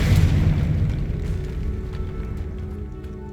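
A Confringo fire spell explodes in the game Hogwarts Legacy, a deep loud boom at the start that rumbles and crackles as it slowly fades.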